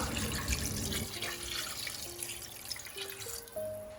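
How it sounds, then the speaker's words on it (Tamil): Water pours quietly into a metal pressure cooker holding chicken, its pitch rising in steps as the vessel fills. "இப்போ கோழி வேகிற அளவுக்கு தேவையான அளவு தண்ணி சேர்த்துக்கலாம்"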